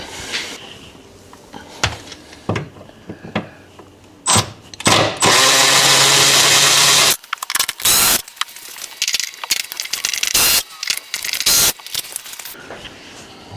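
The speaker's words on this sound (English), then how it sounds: "these are four bolts needed to remove this" Hand tools work on the strut tower support of a C8 Corvette, with ratchet clicking and metallic clanks in irregular bursts, then a long buzzing whir of a power tool spinning out a bolt, close and loud, with no talking.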